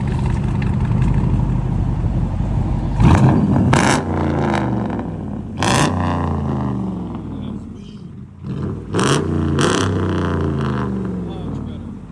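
A RAM 1500 pickup with a 5.7L HEMI V8 and true dual straight-pipe exhaust idles loudly, then blips and revs in several sharp bursts that settle back into a deep rumble; voices talk over it.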